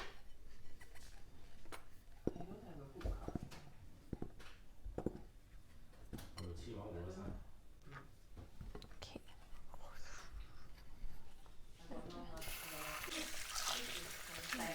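Tap water runs while potatoes are washed in a home kitchen, a steady faint stream that grows louder near the end as someone whispers and talks softly throughout.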